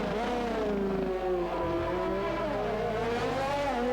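An F1 2020 race car in the video game braking hard into a slow corner, the engine note dropping and shifting in pitch with a faint tyre squeal, steady and moderately loud.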